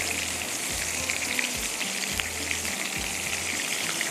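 Sausage cheese rolls fry in hot oil, giving a dense, even sizzle with a bubbling undertone and faint occasional clinks, close and continuous with no talking.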